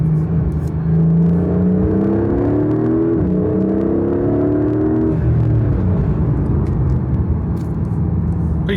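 A Porsche 991.1 GT3 RS with an iPE exhaust drones loudly up close, its deep engine tone swelling and dipping through light revs before settling into a steady roar, with no voices.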